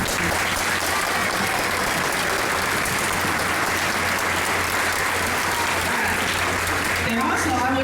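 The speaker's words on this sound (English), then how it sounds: "So give them a round of applause." Dense, loud applause from a school orchestra concert audience in a junior high venue, continuous clapping from many hands that holds steady for several seconds without pause.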